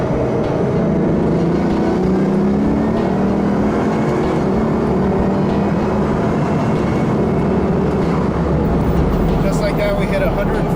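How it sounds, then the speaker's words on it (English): A 2011 Bugatti Veyron accelerating hard, a loud, continuous roar of engine and rushing wind building steadily from start to finish, with the occupants' voices mixed in beneath it. "When you step on the acceleration pedal, on the gas pedal, the thing just goes."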